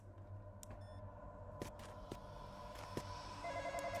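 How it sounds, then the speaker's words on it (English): A phone ringing in the Roblox horror game Midnight Hours, a steady electronic ring repeating over a low background hum, with a brighter beeping tone joining near the end. "Should I answer the phone? The phone's like right here."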